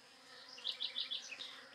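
Honey bees (Apis mellifera) working the blossoms of a flowering yellow jabuticaba tree make a soft, steady buzzing, with several brief louder swells as individual bees pass close by, and no voices.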